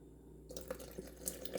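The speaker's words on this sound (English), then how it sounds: "I'm going to add a little more water." Water trickles and drips into a Breville Bluicer blender jar, a faint, brief pour with small splashing drops that starts partway through, alone and close by.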